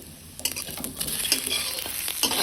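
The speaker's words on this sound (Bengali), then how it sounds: "এইভাবে একটু কড়াইতে নাড়াচাড়া করে নেওয়ার ফলে তিলের স্বাদটাও কিন্তু খুবই ভালো লাগবে" Sesame seeds are stirred and fried in a wok, giving a busy, close sizzle with repeated scraping and rustling strokes that grow denser toward the end.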